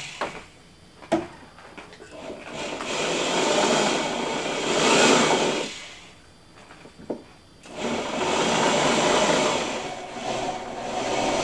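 Power drill fitted with a right angle attachment, working during installation of a Black & Decker TROS1500 rotary oscillating tool; loud sustained whirring bursts, two long runs separated by brief pauses and a sharp knock.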